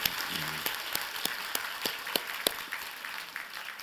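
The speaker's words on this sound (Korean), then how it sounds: "박수해 주시기 바랍니다" A church congregation applauds, with scattered sharp claps over a dense background of clapping that gradually thins out.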